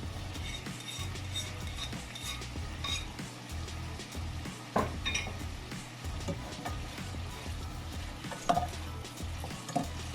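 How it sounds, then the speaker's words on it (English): Saltfish sautéing in a pan for a Jamaican steamed callaloo dish, a low continuous sizzle with scattered light clinks of a utensil against the pan. "let it saute a couple minutes"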